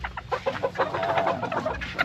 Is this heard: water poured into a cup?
no